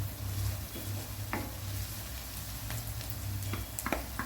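Ginger garlic paste fries with softened onions in a pan for a chicken gravy, giving a steady, close sizzle with scattered scrapes and taps of a stirring spoon, fairly quiet and without talk.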